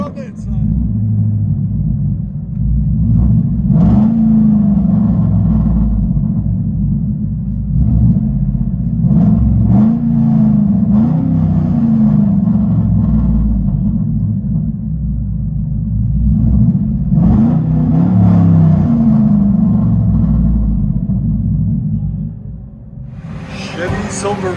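Straight-piped 2008 Chevy Silverado with a 5.3L V8, true dual exhaust, no X pipe and 2-inch pipes into 6-inch tips, a loud deep rumble heard from inside the cab with swelling revs and people talking over it.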